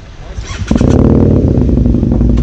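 A motorcycle engine starts with the clutch held, a brief cranking whir catching into a loud, steady idle rumble close by, with a voice briefly audible before it.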